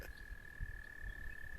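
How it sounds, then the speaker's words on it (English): Frogs croaking on a spring day, a steady high trilling call running throughout over a soft background, fairly faint and alone. "Hear the frogs."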